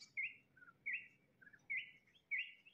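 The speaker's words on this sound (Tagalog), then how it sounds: "Tunog ng mga ibon." Birds chirp in short, bright calls every half second or so, sounding fairly distant and faint over quiet background noise, with no voices.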